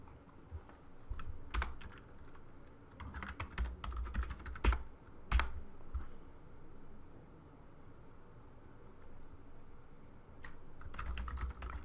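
A command being typed on a computer keyboard at a server command line, with quiet bursts of clicking keystrokes separated by pauses over low background noise.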